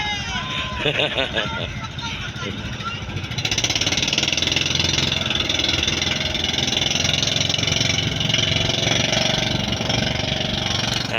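A boat engine at a pier in San Fernando, Cebu, runs steadily and grows louder after a few seconds, a continuous mid-pitched drone with a crowd talking in the background.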